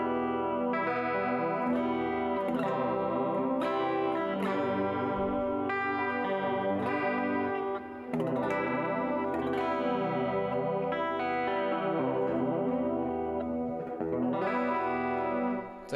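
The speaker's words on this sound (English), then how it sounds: "I used two pedals, an Ibanez delay and an Ibanez chorus, because I really like that chorus delay sound" An electric guitar plays through Ibanez delay and Ibanez chorus pedals, giving melancholic strummed chords with a shimmering, echoing wash. It plays continuously for the whole stretch at moderate level, with brief dips between phrases and no voices.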